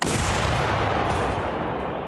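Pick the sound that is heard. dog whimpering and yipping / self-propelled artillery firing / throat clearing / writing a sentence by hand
self-propelled artillery firing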